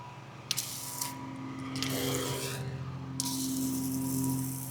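A pressurized sprayer laying soft wash on a tile roof on a freezing Florida morning, a steady hissing spray that starts and stops in bursts over a constant humming pump drone.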